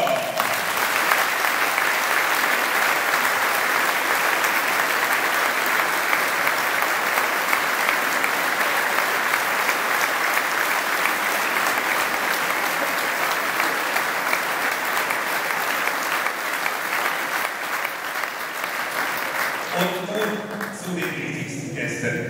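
A snooker exhibition audience in Hamm gives loud, sustained applause welcoming a referee, dense steady clapping that fills the hall and fades toward the end as a voice begins to speak.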